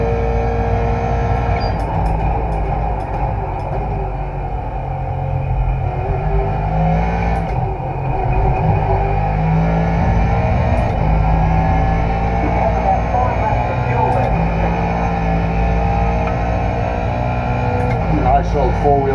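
A Ford GT3 race car in the iRacing simulator, run on a direct-drive wheel, holds a steady loud engine drone through a four-wheel power slide with slight countersteer, with a voice talking over it the whole time.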